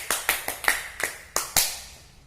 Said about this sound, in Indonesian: Beri tepuk tangan kepada Fadil.